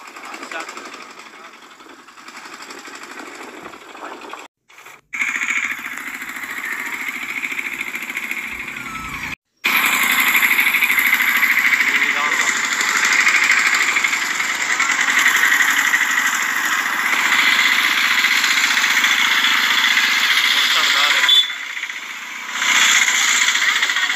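Vehicle engines drone in a traffic jam on a narrow road, a steady buzzing whine with brief dropouts, while a voice talks over it.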